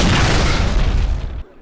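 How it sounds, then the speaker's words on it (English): A loud explosion blast sound effect plays during a RWBY tabletop role-playing session. It is a single heavy rumbling burst that fills the moment and then cuts off abruptly. "you hear a blast of explosion"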